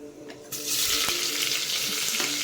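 Onion frying in hot oil for donne biryani, a steady loud sizzle with occasional stirring scrapes that swells after a quieter start, heard up close with no talking.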